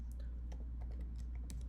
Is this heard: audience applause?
no